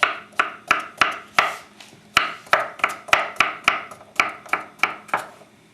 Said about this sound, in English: And a piece of zucchini diced also.